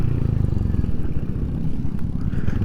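A Royal Enfield Hunter 350 motorcycle's single-cylinder engine thumps and revs close by during a wheelie attempt, a short burst of rapid throbbing pulses.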